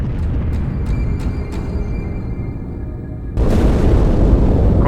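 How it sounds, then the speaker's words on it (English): A deep, loud rumbling blast erupts from inside a ship in Halo 2 and sustains as a heavy roar after a lower-level stretch with faint clicks, no talk over it. "That explosion came from inside the Athens, same as the Malta."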